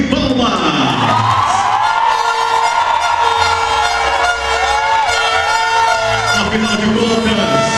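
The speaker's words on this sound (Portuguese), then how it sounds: "Vamos recepcioná-los com uma sonora salva de palmas." Loud, steady crowd cheering and clapping greets accounting graduates lined up on a track at their graduation entrance, with toy horns tooting over the din and shouting voices mixed in throughout.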